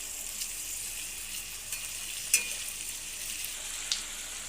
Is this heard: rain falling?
no